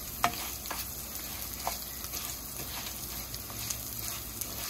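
Fried rice sizzling steadily in a hot pan while being stirred, with a constant frying hiss and scattered scraping clicks from the utensil, close and alone.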